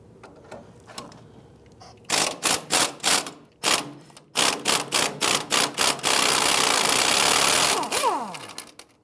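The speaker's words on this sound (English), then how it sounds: "Using a 19mm socket, we'll go ahead and loosen the lower strut nut." A wrench with a 19mm socket works the lower strut nut on a 2000-2006 Toyota Tundra, giving a rapid series of sharp metallic ratcheting clicks in bursts, then a sustained loud whirring rattle, close up and without talk.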